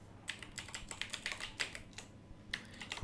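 A computer keyboard clacks as a short word is typed, giving a quick irregular burst of close, crisp keystrokes with no speech.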